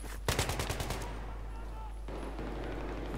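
Gunfire in the video game Battlefield 3 rings out as a quick rapid burst of shots, then fades into a steady background of game ambience.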